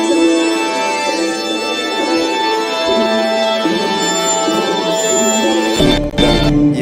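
A sampled instrument chord plays dry with its effects switched off, a loud, dense, sustained block of tones that holds steady and briefly cuts out just before the end.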